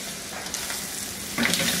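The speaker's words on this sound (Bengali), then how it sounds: "এখন এর সাথে মিশায় সুন্দর করে ভেজে নিই" Chicken livers fry in a pan for a Turkish-style liver fry, giving a steady close sizzle throughout that gets louder and brighter near the end as they are stirred.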